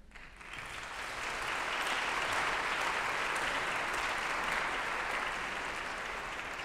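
An audience at a Spelman-Morehouse Christmas carol concert breaks into applause, a broad, even clapping that builds within the first two seconds and holds steady.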